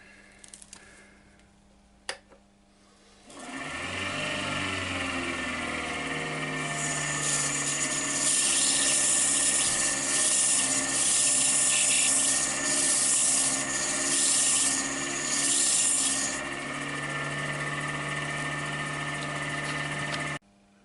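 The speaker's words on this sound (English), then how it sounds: "I've just sanded the inside of the lid down" After a brief knock, a power sander whirs steadily against the inside of a wooden box lid with a harsh abrasive hiss that rises in the middle and then stops.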